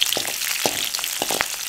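Curry leaves frying in hot oil, a bright hissing sizzle with scattered crackles and sputtering pops, close and fairly loud, no talking.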